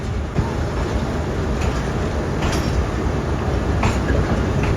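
A Pakistani Railways train of the Allama Iqbal Express rolls along the tracks near Lahore, a loud, continuous roar of wheels with faint rhythmic clicks and brief squeals, close by and without speech.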